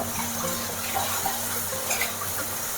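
Water pours steadily into a pan of parwal (pointed gourd) masala curry, a continuous light splashing trickle lasting a few seconds.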